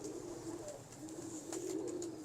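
Pigeons of a large-bodied breed coo softly and repeatedly in a loft, low rolling calls rising and falling over a steady background hum, fairly faint and with no talk.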